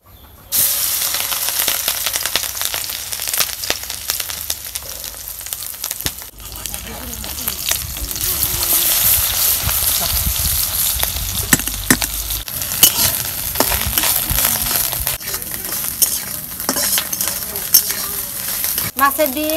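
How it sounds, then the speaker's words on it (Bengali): Fish roe fries in a pan with a loud, close, continuous sizzle and hiss, broken by occasional clinks and scrapes of a spatula, with no voices over it. "প্রথমে আমি মাছের ডিম ভাইজা নেব।"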